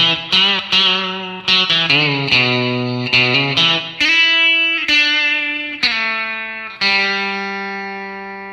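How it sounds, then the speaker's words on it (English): A distorted, effects-laden electric guitar plays the next line of You Just Can't Beat Jesus Christ: quick picked notes early, then several ringing held notes that slowly decay, close and loud with no voices. "Then the next line of the song sounds like this."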